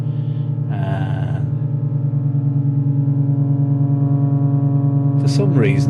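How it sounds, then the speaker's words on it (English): Modular synth oscillator on a homemade TriSawRotops module driven into clipping distortion, a loud steady buzzing drone with dense harmonics, briefly overlapped by a voice speaking near the start and again near the end. "That one's, yeah, clipping distortion again there."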